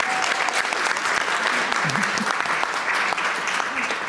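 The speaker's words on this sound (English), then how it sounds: "So if you will give our children a round of applause here." Conference audience at a community summit gives a round of applause for children, a thick, continuous clapping that stays loud throughout, with faint voices murmuring underneath.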